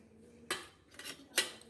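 A spoon clinks against a bowl twice while mixing raw eggplant bharit with salt, red chilli powder and a little oil, two short clear scrapes separated by a pause, close and quiet.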